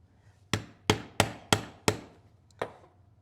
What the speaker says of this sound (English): I'm going to go ahead and work my way around here with my stitching chisels